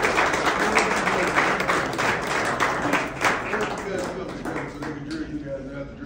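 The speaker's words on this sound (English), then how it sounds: "give him a round of applause" An audience claps for a football offensive coordinator at a team gathering, the applause loud at first and gradually thinning out, with voices talking through it.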